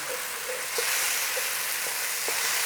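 Corned beef curry sizzling steadily in a pan while being stirred, with a few soft scrapes of the spoon against the pan and a constant close frying hiss, no voices.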